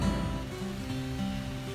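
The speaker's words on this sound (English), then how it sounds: "All right, it is day 2 and it is raining." Rain falls steadily outdoors at a residential radon mitigation system installation, a dense, even patter with a low hum beneath it and no talking.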